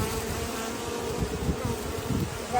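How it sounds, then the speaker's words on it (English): A bee, barbed stinger wedged in skin, buzzes continuously and fairly loudly up close as it circles and struggles to sting, its drone wavering slightly in pitch and intensity throughout. "it's just a bee, and if she stings me successfully, she'll die."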